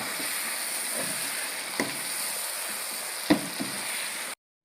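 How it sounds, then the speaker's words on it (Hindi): Chicken feet fry in oil and masala in a pan, a close, continuous sizzle with a couple of brief stirring knocks before it cuts off. "अब मैं इसके अंदर ये पंजे डाल के इनको मैं थोड़ा सा भून लूँगा इसमें"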